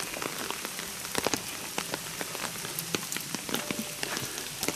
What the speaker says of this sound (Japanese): まだまだ雨がずっと降っています。